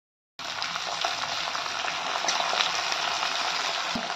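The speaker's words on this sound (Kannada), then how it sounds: "ಜೀರಿಗೆ ಚೆನ್ನಾಗಿ ಚಟಪಟಾಣಿದೆ." Cumin seeds and fresh green peas sizzle steadily in hot oil for samosa filling, a continuous close crackling hiss with no talk over it.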